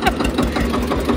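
A tractor engine runs nearby during manure spreading, with a loud, steady, throbbing chug that carries on through the whole moment.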